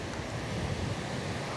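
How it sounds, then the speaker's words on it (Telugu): Large ocean waves breaking on a windy beach in Oman, a dense continuous roar of surf mixed with buffeting wind noise, loud and close, no voices. "అలలు కూడా చాలా పెద్దవి వస్తున్నాయి"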